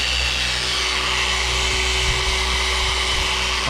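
Polisher pad spinning steadily on single-stage car paint, a continuous close whirring hum with a constant motor tone and no pauses.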